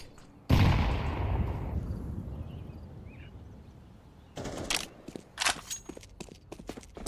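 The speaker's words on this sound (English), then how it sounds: "I'm throwing a flashbang. Throwing fire. Low enough. Grenade out." Grenades and a flashbang thrown in a Counter-Strike 2 match: a sudden loud burst that decays over a couple of seconds, followed after a quiet stretch by several sharp, shorter pops and clatters.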